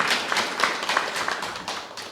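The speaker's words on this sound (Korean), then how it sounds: "큰 박수 부탁드립니다." Audience applause for a panelist being introduced at a provincial assembly debate forum on energy governance, with scattered distinct claps over a steady patter lasting about two seconds.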